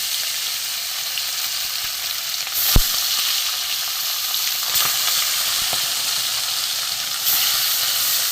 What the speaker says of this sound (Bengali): অল্প কটা করে ভাজবো।